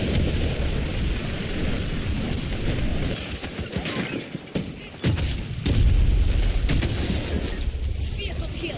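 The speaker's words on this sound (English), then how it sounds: "land on top of enemy armor, and destroy it using the C5" A C5 explosive destroys an enemy armored vehicle in the Battlefield 2042 video game: a heavy boom and rumbling blast land about midway, and sustained battlefield noise and gunfire continue around it.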